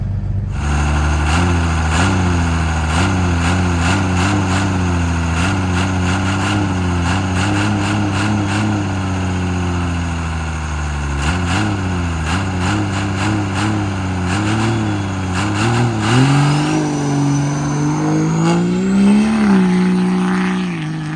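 A dirt drag racing buggy's engine rumbles loudly and close, its pitch rising and falling through repeated revs before climbing sharply near the end as it makes a test launch on a soft dirt track.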